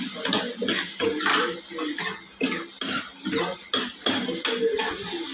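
A spoon stirs onions and tomatoes in a pan while Maggi noodles are being made, giving a run of close scraping and clinking strokes in an uneven rhythm, with a soft hiss between them.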